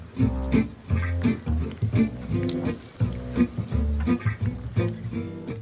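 Water poured from above onto seeds in a seed tray, arriving in repeated short splashing bursts with brief pauses between them, close and moderately loud, with no talking.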